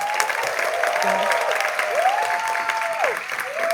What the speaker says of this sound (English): Can we give a round of applause for